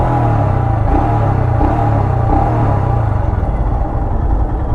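Royal Enfield Scram 411 motorcycle engine while riding, a loud, continuous thumping drone from close by with steady rhythmic pulsing and slight fluctuation as the throttle is held, with no talk.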